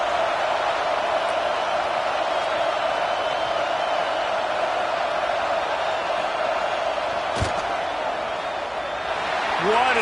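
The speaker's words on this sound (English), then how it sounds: "This crowd trying to do its part to get inside the kicker's head." Stadium crowd at a football game roaring during a fourth-down field goal attempt, a steady wash of distant noise with a sharp clap near the end.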